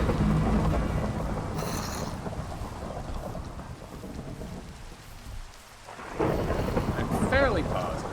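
Heavy rain pours in a Minecraft-style video game storm, with rolling thunder rumbling loudly through the first half, a brief lull, then a sharp crack of lightning striking near the end.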